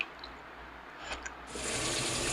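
Water runs steadily from a shower, a broad hiss that swells louder and brighter halfway through as the flow opens up, alone with no voices.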